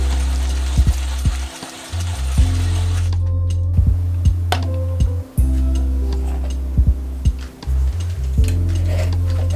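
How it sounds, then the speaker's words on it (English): A coffee grinder grinding 14 grams of coffee to a fine grind for a moka pot: a loud, close, droning motor hum that runs steadily with a few brief dips and small ticking rattles. "I prepare my moka pot by grinding up 14 grams of coffee in fine grind"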